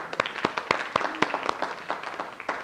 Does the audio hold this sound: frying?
no